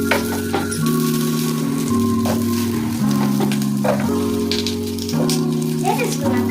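Carrots sizzling in a pan for tomato soup, a steady crackling hiss running throughout, with a droning tone that steps in pitch in the background.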